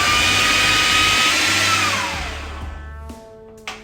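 Blender running loud and steady as it blends flour and butter for a mixed berry crumble, its motor whine winding down over about a second and stopping, followed by a couple of light knocks.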